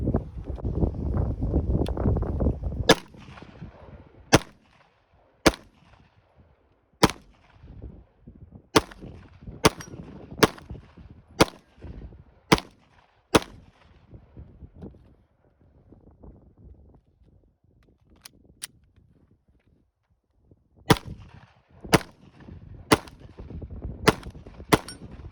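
Gunshots from a pistol fitted with a Sig Sauer Romeo 0 Pro red dot sight crack out one at a time at an outdoor range, a long irregular series of sharp, loud reports with pauses between strings, and wind noise at the start.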